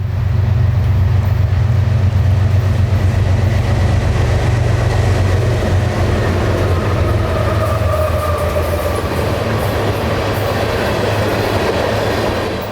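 Train engines roar past at speed near Blackwater Creek in Florida, a steady loud rumble of locomotives and rolling railcars with rhythmic wheel clatter throughout, close by and with no talking.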